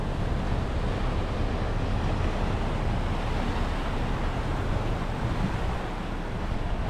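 Ocean surf in Hawaii roars continuously as a dense, loud wash of breaking waves, steady throughout with heavy wind buffeting on the microphone and no voices.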